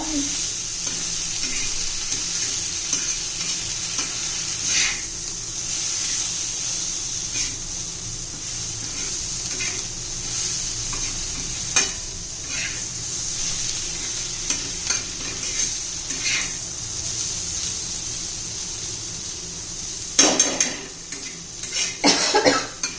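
Onion and coriander cooking in a pan for a chilli-onion thecha, with a steady bright sizzle, occasional stirring scrapes, and a cluster of louder clatters near the end.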